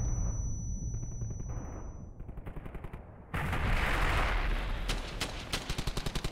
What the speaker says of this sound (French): C'est le canon!